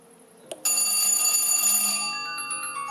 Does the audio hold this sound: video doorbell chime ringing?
yes